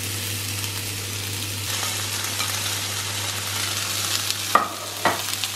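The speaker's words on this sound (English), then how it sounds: "I've preheated my skillet here and sprayed a little bit of olive oil. Now I'm gonna add in the chopped onions." Chopped onions sizzle steadily in a preheated skillet sprayed with olive oil, a close, even hiss with a low hum underneath and a couple of sharp clicks near the end.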